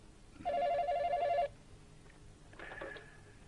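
A telephone gives a bright electronic trill lasting about a second, then a fainter second ring follows after a short pause, both in a quiet room.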